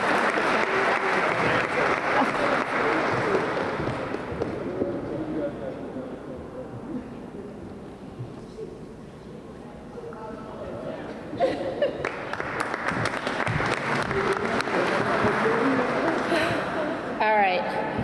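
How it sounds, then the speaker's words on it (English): An audience at a summer public safety career program closing ceremony applauds steadily for a capstone presentation winner, loud and sustained throughout, with a brief dip in the middle before the clapping swells again. "give him another round of applause"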